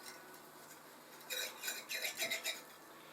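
A knife scrapes and cuts around the edge of a cheese-filled bake in its dish, giving a few short, close scraping strokes in quick succession against a faint background hum.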